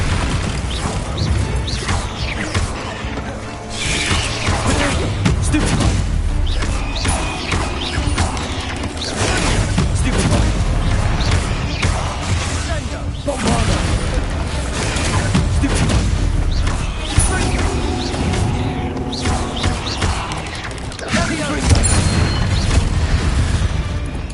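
A Bombarda spell blasts in Hogwarts Legacy, loud booming crashes and crumbling debris recurring across a dense, busy game soundscape with no talk.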